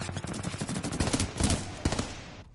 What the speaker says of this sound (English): I'm gonna try that assault rifle.